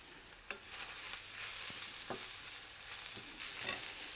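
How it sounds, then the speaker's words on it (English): Mushrooms sizzle and hiss in hot oil, a steady broad crackle close by, with a few soft clicks of stirring utensils scattered through. "So our oil is hot, we can put in the mushrooms."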